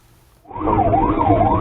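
An ambulance siren starts suddenly after a brief quiet moment and wails loudly and close, its pitch rising and falling in a smooth repeating sweep as the vehicle rushes to an emergency.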